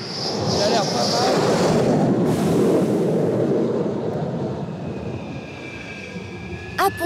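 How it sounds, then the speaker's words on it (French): A jet lands on the French aircraft carrier Charles de Gaulle with a loud roaring rush that fades to a lower rumble, while voices talk over it. "Appontage parfait."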